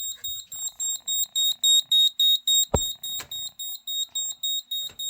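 A 1989 Moose Z900 fire alarm panel sounds its alarm as a steady series of loud, high-pitched pulsed beeps, with a brief clunk partway through and no speech.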